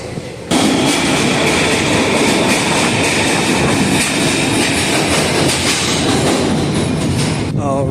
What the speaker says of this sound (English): This is the train to 33rd Street.